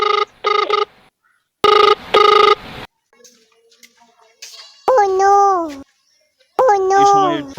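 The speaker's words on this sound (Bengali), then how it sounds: "হঠাৎ চেয়ারম্যান সাহেবের ফোন।" A telephone rings in short repeated bursts, two quick electronic trills followed by two more, then a pause before voices speak with a sing-song tone.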